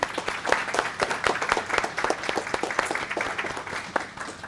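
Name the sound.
audience round of applause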